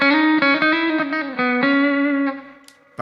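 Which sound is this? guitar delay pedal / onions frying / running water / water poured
guitar delay pedal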